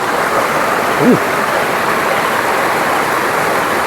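Rushing water of a stream swollen after a typhoon, a steady broadband roar filling the whole clip with a brief higher blip near the start.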